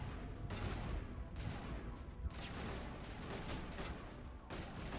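Sustained gunfire from the Mass Effect video game, a dense continuous barrage of shots with a few brief lulls, loud and steady throughout with no talk.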